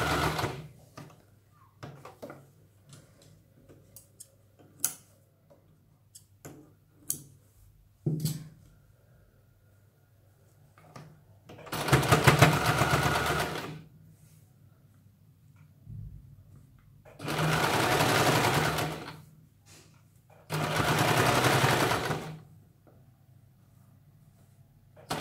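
Sewing machine stitching a folded strip on a princess-cut blouse, three loud whirring runs of a few seconds each separated by quiet stretches of small clicks and handling noises, no talking.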